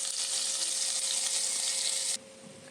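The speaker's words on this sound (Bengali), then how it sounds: "এবার আলু আর ডিমটাকে ভালো করে ফ্রাই করে নেব।" Potatoes and boiled eggs fry in white oil in a kadai for egg biryani, giving a loud, steady, close sizzle that cuts off abruptly near the end, with no talking.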